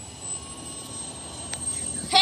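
An airplane moves across an airport, a steady broad engine rumble with high whine at moderate distance, fairly faint, with a brief louder noise at the end.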